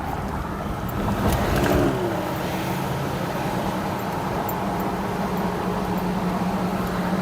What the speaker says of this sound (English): but I am driving there now